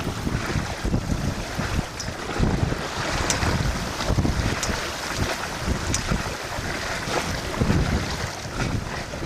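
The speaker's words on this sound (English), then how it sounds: "you can hear every little ripple in the water, every little puff of air, every little sound around you" A sailboat under sail with the motor off on a long passage from Lake St. Clair, Michigan, toward Put-in-Bay, Ohio: steady rushing wind and gusty microphone buffeting over constant water swishing and lapping along the hull.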